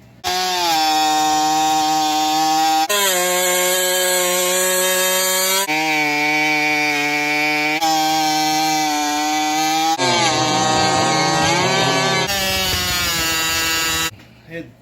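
A chainsaw fitted with an aftermarket HIPA carburetor built for a 372 XP runs loudly and steadily, its buzzing engine note shifting pitch abruptly several times as if revved up and down.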